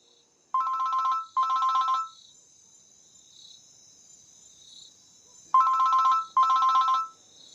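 Telephone ringing indoors in two pairs of short electronic trills, each burst about a second long, separated by a few seconds of near silence with a faint high tone lingering; moderately loud and with no talk.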